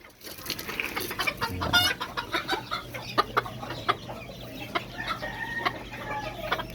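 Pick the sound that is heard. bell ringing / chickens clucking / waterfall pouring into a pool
chickens clucking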